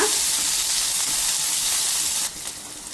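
Chopped onion dropped into hot oil with mustard seeds and urad dal, a loud steady sizzle and hiss that runs continuously, then drops to a quieter crackle near the end.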